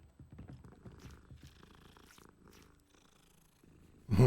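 A cat in Hogwarts Legacy purrs softly and close, in a low rhythmic rumble layered with quiet game ambience and scattered faint sounds, before a sudden loud low thump at the end.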